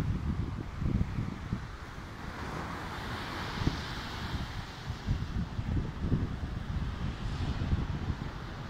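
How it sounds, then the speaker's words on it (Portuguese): Rough sea surf rolls in at Praia da Fragosa beach, Póvoa de Varzim, in northern Portugal, with repeated low rumbling wave surges under constant gusty wind buffeting the microphone, a steady outdoor roar with no talk. "ver o mar agitado"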